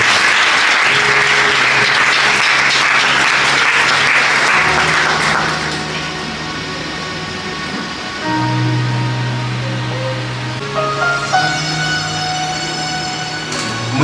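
An audience at a book signing event applauds loudly and steadily for several seconds, then the clapping fades under sustained musical tones and a low hum.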